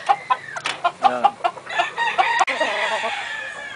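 A sweater gamefowl rooster crows repeatedly at close range, its loud cock-a-doodle calls landing in a quick rhythmic series, with clucking from other fowl mixed in and no talk over it.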